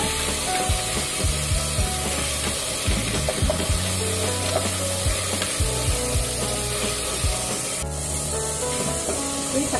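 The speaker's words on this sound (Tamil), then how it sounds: "இப்போ நம்ம வந்து தக்காளியும் பச்சை மிளகாயும் சேர்த்துடுறோம். தக்காளி நல்லா மத்திய அளவுக்கு நம்ம வதக்கி விட்டுடலாம்." Tomatoes and green chillies sauté in hot oil for a squid curry, producing a continuous, fairly loud sizzling spray with a low, steady rumble underneath.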